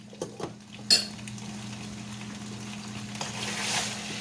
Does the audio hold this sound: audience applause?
no